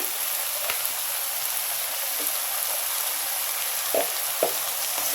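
Onion fritters, peyajer kali bhaji, sizzle in hot oil with a steady, close hiss and a few faint pops, with no voices.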